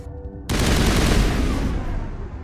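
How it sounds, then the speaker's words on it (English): Mass Effect assault rifle opens up in a sudden, loud, sustained burst of rapid automatic fire that rolls on for about two seconds with no voices over it. "I kinda want to try this assault rifle."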